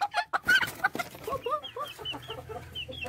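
Laying hens kept in a coop at a home poultry setup, giving short clucks and soft rising calls in quick succession, fairly close, with no voices.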